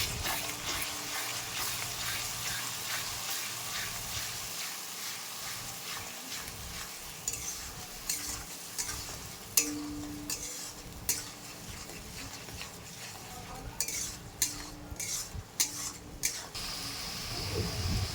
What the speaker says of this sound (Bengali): মশলাটা ভালো করে এবার কষিয়ে নেব